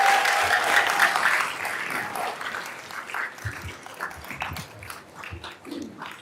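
Another round of applause at a school board meeting, starting full and close, then thinning into scattered claps with murmuring voices as it tapers off.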